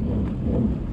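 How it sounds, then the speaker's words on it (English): A thunderstorm with steady rain, the low rumble of thunder rolling under a constant wash of rainfall, close and fairly loud throughout. "There's a storm."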